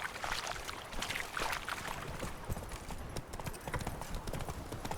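A horse gallops in The Witcher 3: Wild Hunt, with rapid, continuous hoofbeats, loud and close and without talking.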